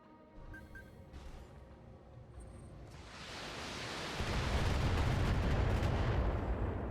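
Long-range missile volley striking a mech in BattleTech, a building rumble of impacts that swells into a dense, loud barrage of blasts and roaring noise with no talk.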